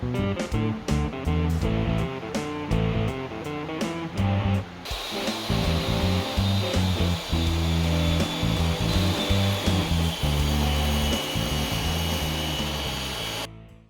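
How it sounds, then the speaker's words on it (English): Walnut boards milled with power tools in a woodshop, heard as loud, continuous machine whine and roar with repeated cutting surges and short bursts that change character partway through, with no voices. "enjoy this wood milling montage"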